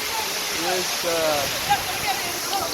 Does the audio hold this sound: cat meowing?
no